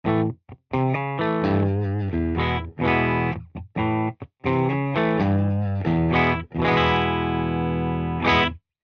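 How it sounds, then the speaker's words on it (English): Electric guitar chords from a Gretsch G6228 Player Edition strummed through a warm, driven 1967 Fender Bassman tube amp into a two-Creamback cabinet, with slight breakup and a rhythmic pattern of full chords and brief pauses, no talking. "I have a Gretsch G62 28 player edition into a Fender, a 1967 Fender Bassman"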